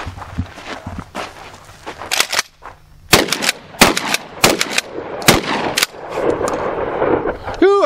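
A GForce Arms 12 gauge pump shotgun fires several sharp, loud blasts at irregular intervals outdoors, with the pump action clacking between shots and brief voices in the background.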